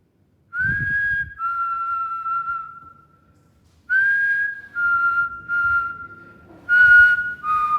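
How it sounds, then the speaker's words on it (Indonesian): Someone whistles a series of sustained notes in short phrases inside an abandoned lab, with a pause after the first two, over faint background noise. "Gue coba bersiul ya teman-teman ya."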